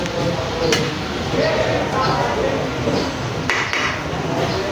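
A metal spoon scrapes and clinks against a pot while sugar is stirred into a dish, with a few sharp knocks and kitchen clatter under ongoing background noise.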